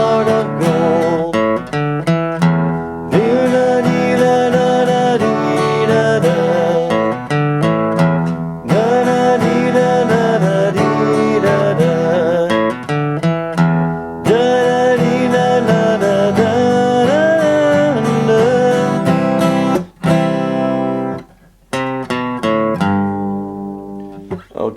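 Acoustic guitar strums through the finale of a song, loud rhythmic chords in repeated phrases with brief pauses between sections, ending in a ringing, fading final chord.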